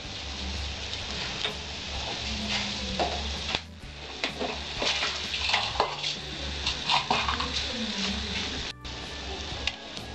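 Whole spices including bay leaf, crushed cardamom and cloves sizzling in hot oil in a pan, with intermittent stirring clinks and scrapes over a steady fry.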